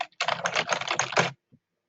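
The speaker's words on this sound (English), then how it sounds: "Then we type our message." A short burst of quick, close key presses on a computer keyboard while a message is typed, with a couple of faint stray taps after, no talk.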